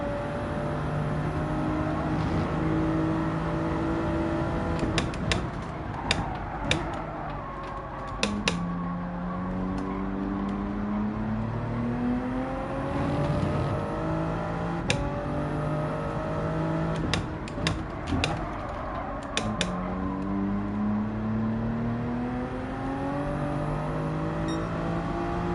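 A race car engine in Gran Turismo 7 at Daytona revs repeatedly through the gears, its pitch climbing and dropping in steady sweeps over a continuous loud drone, with no talking.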